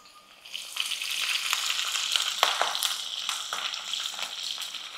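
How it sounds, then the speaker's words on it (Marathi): Ginger, garlic and green chili sautéing in hot oil for soy chili manchurian make a loud, continuous sizzle that swells after a quiet start, broken by sharp spatula scrapes and clinks against the pan. "आलं लसूण परतवून घेतले की आता आपल्याला ह्याच्यात टाकायची हिरवी मिरची"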